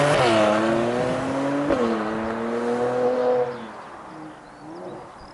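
A 2019 Mercedes-AMG C43's performance exhaust roars loudly past, its engine note rising then falling as it drives by and fades into the distance.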